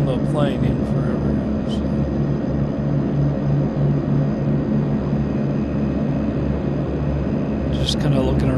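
Twin Otter propeller engines droning steadily in the FSX flight simulator, a loud continuous hum with a low tonal buzz that runs through the whole stretch, with brief higher chirps near the start and end.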